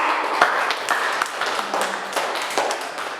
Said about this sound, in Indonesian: Beri tepuk tangan kelompok 2.